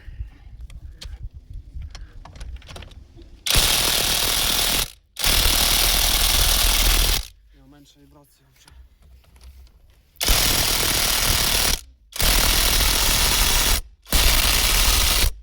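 A powerful LEADER impact wrench loosening a bolt hammers in loud, harsh bursts of rapid rattling, several runs of one to three seconds separated by short pauses, close up with lighter mechanical clicking before the first burst.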